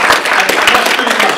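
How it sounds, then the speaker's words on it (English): A seminar audience breaks into loud, close clapping, a dense burst of hand claps that carries steadily through the short moment. "Big clap."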